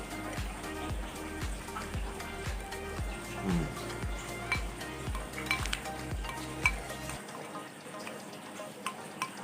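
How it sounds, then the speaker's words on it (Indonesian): Fish bait mix for carp is stirred with hot water in a bowl, a steady scraping and sloshing stir with sizzling hiss and faint clinks, close and continuous. "Aduk semua sampai merata"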